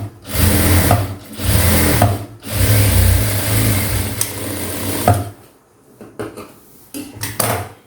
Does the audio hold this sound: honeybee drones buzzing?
no